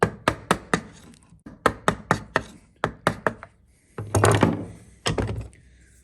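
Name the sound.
chisel cutting off the corner of wood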